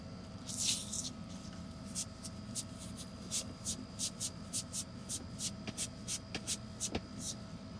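A gray Scotch-Brite pad scrubs back and forth over metal in quick rhythmic strokes, a soft raspy swishing repeated over and over at moderate volume.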